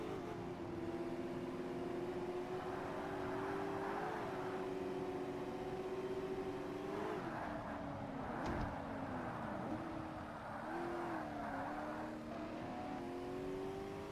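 A Ferrari engine droning steadily in a Forza Motorsport classic sports car race, a continuous tonal whine rising and dipping with gear changes and throttle, fairly close and uninterrupted by talk.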